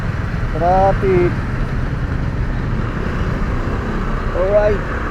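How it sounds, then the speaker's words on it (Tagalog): Low engine rumble of idling road traffic surrounds a Lalamove delivery motorcycle rider in the Philippines, a steady close drone with brief horn-like tones, while people talk over it. "Traffic."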